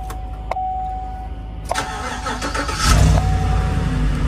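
A pickup truck engine cranks with a few short clicks and turns, then catches about two-thirds of the way through and settles into a loud, rough idle close by.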